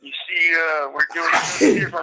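Someone talks, and a sharp sneeze bursts out partway through, loud and close, with speech resuming right after.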